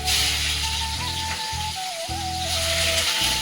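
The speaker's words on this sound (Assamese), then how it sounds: "এয়া ফিচাৰী মাছ ফ্ৰাই কৰিছে।" Fish frying in a pan: a steady, close sizzle of hot oil over a continuous low hum, with a faint tone running through it and no speech.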